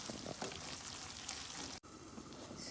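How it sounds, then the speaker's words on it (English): Chopped onion frying in a pan for Guyanese hassa curry, a steady soft sizzle that continues throughout with a brief dropout near the end, no talking. "we're gonna let the onion cook for a little before we add the hassa back to the pan"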